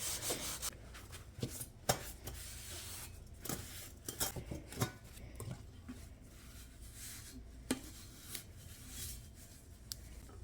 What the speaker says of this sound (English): I am using a sponge that I only use to clean with anything thrifted